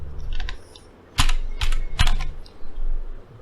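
Keys clatter on a computer keyboard in short uneven bursts of quick clicks, close and fairly loud, separated by brief pauses, with no speech.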